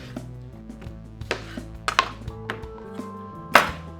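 Knife slicing lemons on a cutting board: several sharp, uneven cuts and knocks sound close by over steady background music, with one loud chop near the end.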